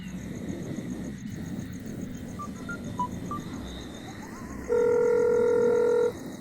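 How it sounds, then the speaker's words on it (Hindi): A telephone is dialed for a call: a quick run of short keypad beeps, then a steady, loud electronic tone holding for over a second against low background noise. "रुक मैं उसे फोन करता हूँ।"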